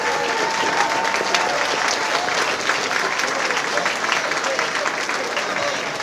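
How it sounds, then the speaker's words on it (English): Many hands clap for the top 100 students at a Santa Ana high school event, a dense and even round of applause that holds steady throughout. "Let's give them a round of applause for your hard work."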